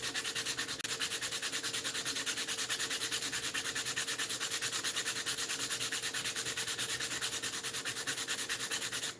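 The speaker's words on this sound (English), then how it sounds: "I'm gonna do a little bit more sanding on that" Steady rhythmic rasp of sandpaper rubbing wood, fast even back-and-forth strokes, close and continuous until it stops abruptly at the end.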